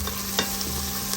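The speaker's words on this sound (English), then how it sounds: "I'm just sauteing my vegetables." Onion, red, green and yellow peppers and garlic sauteing in a pan, a steady close sizzle with a couple of brief stirring scrapes.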